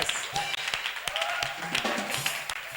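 A church congregation at a prophetic Thursday service claps and cheers in scattered bursts, with voices calling out over the uneven applause.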